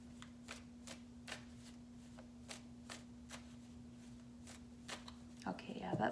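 A tarot deck is shuffled in a steady run of soft, evenly spaced card slaps over a constant low hum. Faint and close. Shuffling grows busier and louder at the end.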